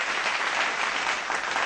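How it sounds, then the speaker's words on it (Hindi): Audience at a televised quiz show bursts into loud, dense applause, a continuous wash of many clapping hands, close and full, with no talking over it. "जोरदार तालियां रिद्धिराज के लिए।"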